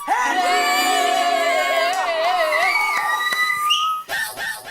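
A whistle shrills loudly and steadily for about four seconds at a cricket-style game in a Mumbai residential society, with crowd noise and excited voices around it before it breaks off into brief chirps.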